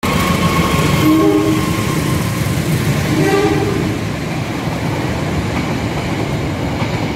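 A MOTIS motorcycle transport train pulls into a busy commuter rail station near Jakarta during the holiday homecoming season, a loud continuous rumble of rolling wagons with a brief horn-like tone rising over it before the noise eases slightly.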